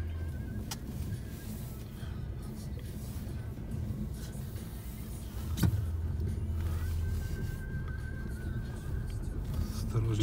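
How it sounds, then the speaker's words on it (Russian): A car rolls slowly along a snowy winter forest road, its engine a soft steady low rumble with muffled crunching underneath, and a sharp click partway through before the hum grows slightly louder. "по снегу так мягко едет машинка"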